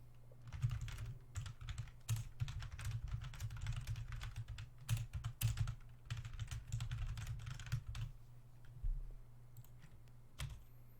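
Steady clatter of typing on a computer keyboard, a dense run of close, crisp key clicks in bursts with brief pauses, slowing near the end, alone in a quiet room.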